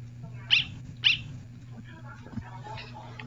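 The Greater Dog in the video game Undertale gives two quick, sharp barks close together, followed by softer sounds over a low, steady game hum.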